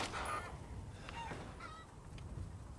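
Poultry in the Resident Evil Village video game giving several short honking, squawking calls over a low rumbling game ambience, fairly faint with no speech.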